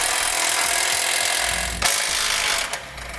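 Broadband power-tool whir, steady and close, loosening bumper beam bolts with a 12 mm socket on a 2017 Subaru Forester, with a short break in the noise and a brief clack near the end.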